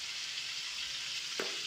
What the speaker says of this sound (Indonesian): Hari ini kita masak ikan bandeng goreng